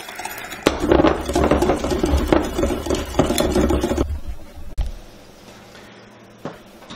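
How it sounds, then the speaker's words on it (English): A whisk beats egg yolks and sugar in a bowl for crème brûlée, making quick rhythmic clinking and scraping strokes for about four seconds, then stopping, followed by a few faint knocks and handling noises nearby. "I'm going to whisk them together until it gets pretty thick."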